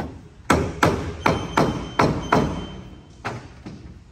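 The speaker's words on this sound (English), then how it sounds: "Once I get in position, I can get the whole thing on by tapping gently, getting that sandwich nice and snug." Vinyl F-channel trim being tapped gently into place along a pontoon boat deck edge over new vinyl flooring: eight sharp, fairly close knocks in an even rhythm, with no talking.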